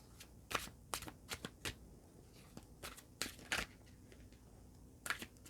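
Tarot cards being shuffled close up: quiet, crisp riffles and flicks in irregular bursts, with short pauses between them.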